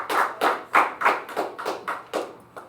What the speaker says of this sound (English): let's you. give a big round of applause for that.